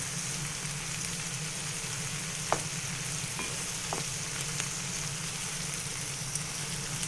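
Ridge gourd frying in a pan for chutney gives a steady, even hiss and fine crackle throughout, close and moderately loud, broken by a few faint clicks of a spoon and no talking.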